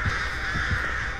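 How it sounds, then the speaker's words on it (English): Crows cawing in the horror video game Dead by Daylight, a continuous harsh raspy cawing held steady and fairly loud for about a second, with no talking. "I did not get hit by those crows."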